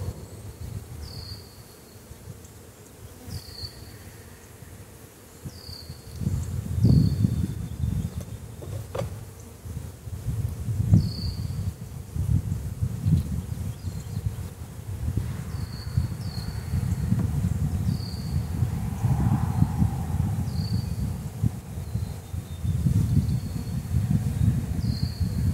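Honeybees from an overwintered nuc buzz steadily around the hive during installation, with individual bees droning past close by over a continuous low hum.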